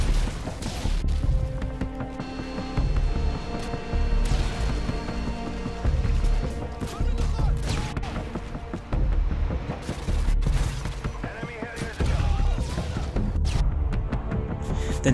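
Gunfire from a grenade launcher and other weapons in Call of Duty: Modern Warfare 2 (2009), a dense run of loud sharp shots and booms in repeated bursts over several seconds.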